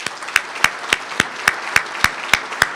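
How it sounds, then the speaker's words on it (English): Guests at a sports celebrity charity event applaud over a soft crowd bed, with one loud nearby clapper striking sharp, evenly spaced claps about three times a second. "I think we like to give another round of applause."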